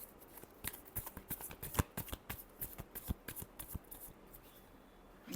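Tarot cards are shuffled in a quick run of faint, crisp clicks and flicks, close up and alone, continuing for several seconds.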